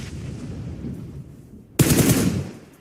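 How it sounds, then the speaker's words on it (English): Gunfire in a PUBG Mobile-style battle royale esports match, a muffled stretch of rapid distant shots followed by a sudden loud close burst of automatic fire lasting about a second, no voices. "Good shots from Aggressor"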